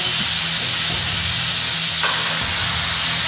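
Onions and garlic sautéing in oil in a pan, a loud, dense, steady hiss of sizzling with a faint knock partway through and no talking.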